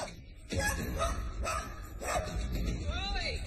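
A dog barks sharply three or four times in quick succession, loud and close, ending with a rising whine.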